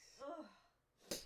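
One sharp sneeze bursts out at the end, close and brief, after a short drawn-in breath.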